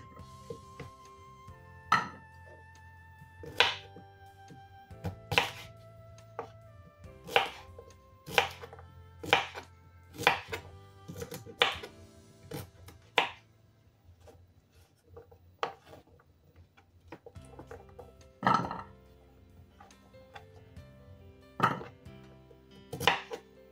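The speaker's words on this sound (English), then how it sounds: "Cut it to your taste. You can use Irish potato, but I'm using sweet potato." Sweet potato being chopped with a knife on a board, a series of sharp, close knocks in an irregular rhythm with quieter gaps between, no talk.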